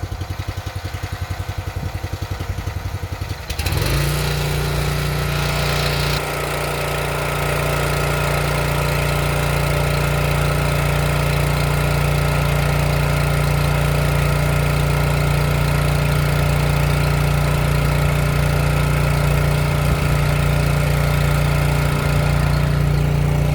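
A gas-powered log splitter engine, choked for its first start of the day, catches after a few seconds of rattling and settles into a loud, steady, close-up running drone that continues without talk.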